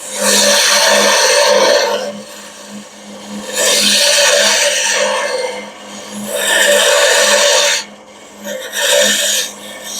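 A hand file rasps against metal in long, loud, close strokes, each lasting about two seconds with brief pauses between them, as the handle swings back and forth to use the whole cutting surface.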